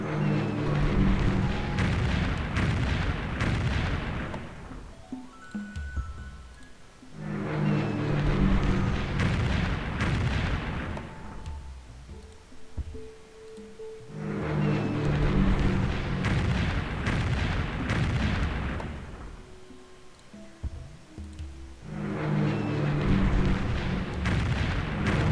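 Artillery fire in the Civilization III strategy game, World War II scenario with England besieging Torino, comes in four long rumbling volleys of booms and blasts separated by quieter gaps, loud and heavy.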